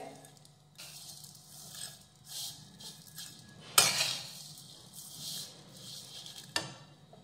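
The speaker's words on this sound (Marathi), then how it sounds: "तर मंद आचेवर ह्या शेवया तुपामध्ये व्यवस्थित भाजून घेऊयात।" Vermicelli roasts in ghee in a pan on a low flame, heard as quiet intermittent stirring and scraping with a few sharp metallic clinks of a spoon against the pan.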